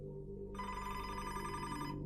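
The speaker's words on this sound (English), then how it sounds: "the office phone rang" An office telephone rings with a continuous bright electronic trill that starts after a short moment and holds steady, over a faint low background drone.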